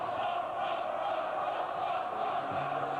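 A stirred-up cricket crowd shouting and jeering, a dense continuous roar of many voices held at an even level throughout.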